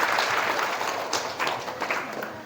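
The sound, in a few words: audience applause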